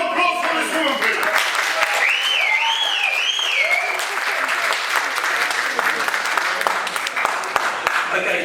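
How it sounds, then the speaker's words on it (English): Audience applause at a public meeting on gasworks air quality, loud sustained clapping from a crowd, with a whistle or squeal rising briefly over it early and talk in the room underneath. "A round of applause for this woman"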